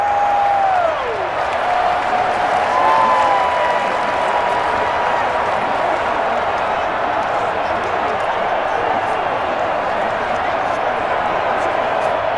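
Loud stadium crowd roar from a Madden NFL 21 American football video game, Miami Dolphins versus Dallas Cowboys, a dense continuous wash of cheering and noise from a hostile home crowd with faint whistle-like tones at the start.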